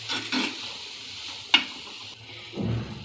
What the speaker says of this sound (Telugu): ఇలా ఆకులు, ముల్లంగి బాగా ఫ్రై అవ్వాలండి.